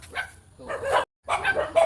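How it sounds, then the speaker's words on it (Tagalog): A dog on a farm barks close by in two or three short, rough bursts separated by a brief pause, loud and alone without talk over it. "At may aso."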